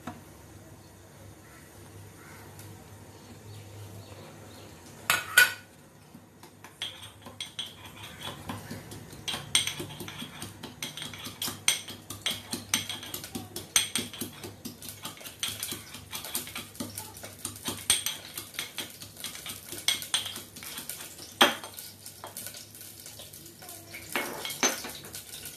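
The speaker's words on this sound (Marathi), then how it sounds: "आता मी आलं आणि लसूण हे थोडस कुटून घेते ह्याच्या।" Ginger and garlic being pounded for a Maharashtrian kadhi: a sharp knock near the start, then a long run of quick, light, uneven tapping and clinking strikes, close and moderately loud, with no talking.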